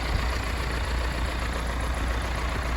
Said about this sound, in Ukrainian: Трактор на місці, маслом кидає, сірий дим, все як має бути